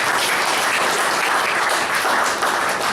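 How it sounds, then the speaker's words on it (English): Steady, dense applause from a Toastmasters audience at an evaluation session, filling the room evenly and without a break for the whole stretch, with no voices standing out above the clapping. "Can we have one round of applause for Toastmaster Robinson?"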